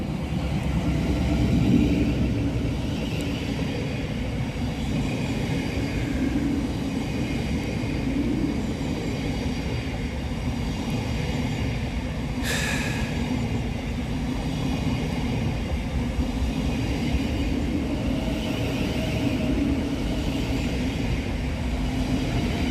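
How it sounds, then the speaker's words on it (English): A Govia Thameslink Class 700 electric multiple unit passes through Preston Park station, running late on a Cambridge to Brighton service, giving a steady, close rumble and rolling wheel noise that holds throughout with a brief sharp squeal midway. "Passing through the station 30 minutes late is 700 147, working 9 Sierra 37 for Govia Thameslink from Cambridge to Brighton."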